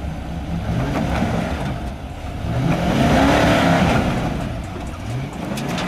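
An Infiniti QX80 SUV engine revs and roars during an off-road climb, loud and close, rising and falling in pitch with repeated throttle surges and a strong swell midway.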